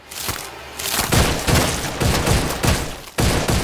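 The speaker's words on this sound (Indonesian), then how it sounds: "menyelamatkan istrinya Soren dengan mengambil pistol penjaga yang juga mematung dan menembaki staf Miranda yang terpapar parasit tersebut" A rapid series of sharp pistol shots in a Halo video game, about eight bursts fired in an uneven rhythm, loud and close.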